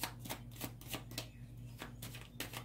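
A tarot card deck being shuffled close up, with quick riffling bursts of card flutter repeating in a soft, quiet rhythm.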